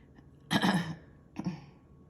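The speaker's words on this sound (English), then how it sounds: "I think I'm having to clear my throat because I ate so many donut holes" Two short throat clearings, the first longer and stronger, the second briefer, close by in a quiet room with no talking.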